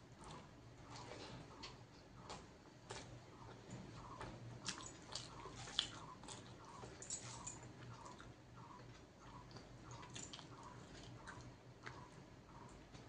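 Someone chewing and biting into meat, soft repeated wet chews and small clicks, close but faint, with no talking.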